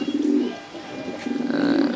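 A native (deshi) pigeon gives a close, low rolling coo in two bursts, the second longer, inside a pigeon house.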